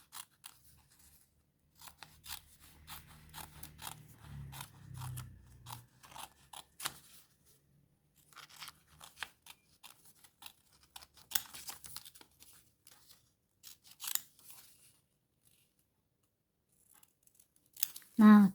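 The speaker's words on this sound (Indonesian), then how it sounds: "Kemudian kita gunting. Ini depannya kita double ya, kita double seperti ini. Nah, kita gunting." Scissors cut through doubled abaya fabric while a pattern is cut out, giving a series of close, crisp snips and crunching slices. A faint low voice or hum sits early on, and the snips grow sparser toward the end.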